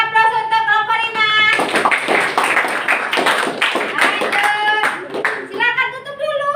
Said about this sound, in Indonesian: Beri aplaus untuk kelompok 5.